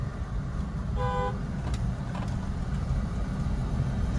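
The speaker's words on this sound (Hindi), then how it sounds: "लॉन्ग हॉर्न पुश करो लगातार और निकालो इससे आगे" A car horn sounds one short, clear toot over the steady low rumble of a car driving on the road, with no talk.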